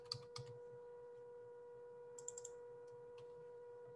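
Someone types on a computer keyboard, giving a few faint, scattered keystroke clicks and a quick cluster of taps over a low steady hum, with no talking.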